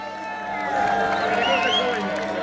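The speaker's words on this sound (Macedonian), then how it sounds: "Ве молиме за еден громогласен аплауз за овие грингоси." Large crowd at a futsal tournament match applauding and cheering loudly, a steady wash of clapping and voices that swells after the first half second and holds to the end.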